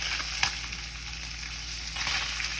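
Fish crisping in a hot pan for tacos, a steady broadband sizzle close by with a couple of sharper spits and pops, no talking.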